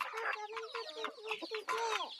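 Several free-range village chickens cluck and chatter close by in overlapping bursts, with a few higher squawks mixed in.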